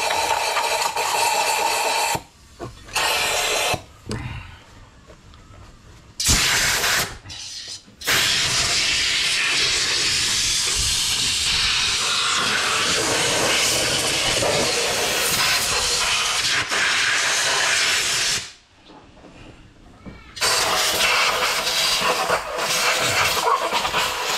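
Compressed air hisses loudly and steadily in long blasts during a service on a 2005 Toyota RAV4, with a few brief pauses between bursts and no talking.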